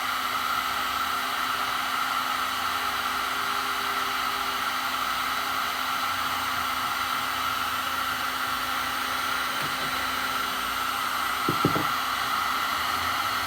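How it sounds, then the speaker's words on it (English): Steady, loud whirring blast of a heat gun warming a seat part on a Norton motorcycle, running continuously near the microphone with a couple of faint taps late on. "if you heat it up nicely with a heat gun, you should be able to tap on it gently"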